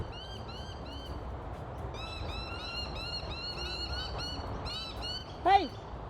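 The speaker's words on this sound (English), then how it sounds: "there are so many birds squeaking and peeping" Birds in Australia squeaking and peeping in repeated bursts of bright chirps, several calls overlapping at moderate distance, with a short louder squawk near the end over a soft background hiss.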